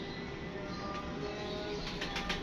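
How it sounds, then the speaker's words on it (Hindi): A Teddy pigeon coos softly at close range in the evening, low murmuring calls over a faint hum of background noise, with a brief flutter of wings toward the end. "माशाल्लाह ये टैडी कबूतर है दोस्तों।"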